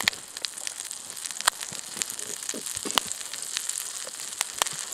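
Sausage frying in a pan with a tab of butter on a G2 Firebox camp stove, a steady close sizzle and crackle with frequent sharp pops spitting throughout.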